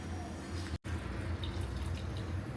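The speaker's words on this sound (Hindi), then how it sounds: "तो मैं पानी इसमें ना और थोड़ा सा डालती हूँ" Water being poured into Maggi noodles cooking in a pan: a steady, close splashing rush that briefly cuts out, then continues, with no voices over it.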